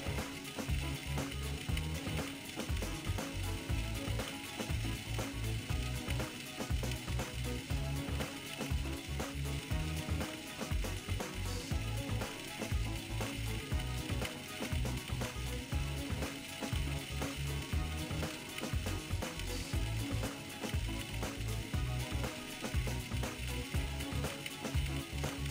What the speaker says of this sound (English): As you're searing, then I can season the other side.